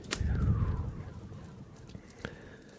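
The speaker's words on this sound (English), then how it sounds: "Clicking on and off the pen light." A pen light clicks on and off during a quiet ASMR stream, giving two sharp, isolated clicks a couple of seconds apart over soft background noise.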